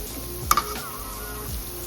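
Onion pakoda sizzles steadily and quietly in hot oil, with a brief sharp clink and stir as the fritters are turned.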